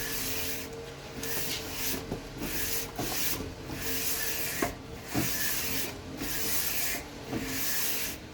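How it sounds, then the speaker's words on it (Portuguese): The edge of a sheet of sandpaper is cut during a Citroen C3 cylinder head resurfacing job, making a repeated, close rasping scrape in regular strokes about once a second, separated by brief pauses. "eu vou ter que cortar a borda da lixa"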